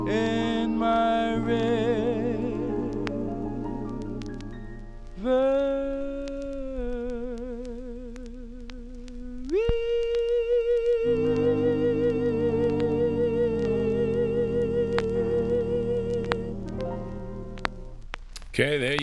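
A 1951 Apollo Records doo-wop 45 plays, with close vocal harmony and a lead voice over sparse backing, continuous and full throughout.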